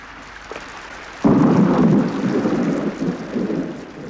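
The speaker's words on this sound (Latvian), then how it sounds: "kad līst audzelīgs pērkona lietus" Heavy thunderstorm rain breaks in suddenly as a loud rushing downpour with a deep thunder rumble, following a quieter patter, and then holds steady and dense to the end.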